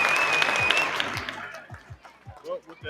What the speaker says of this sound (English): I'll give myself a round of applause and the DJ.